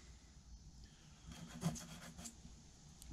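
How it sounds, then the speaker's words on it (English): Board edge rubbed back and forth on sandpaper during a sectional build, a faint rasping of a few short strokes close by with no talk. "clean the edge up on the sandpaper"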